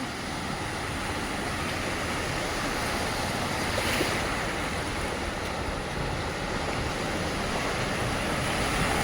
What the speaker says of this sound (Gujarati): મચ્છુ 2 કેનાલના આ કેનાલ ઓવરફ્લો થઈ ગઈ